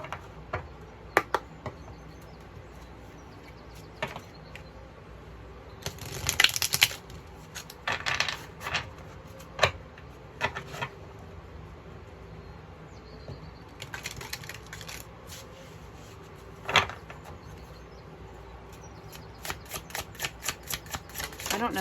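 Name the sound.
shuffling tarot and oracle cards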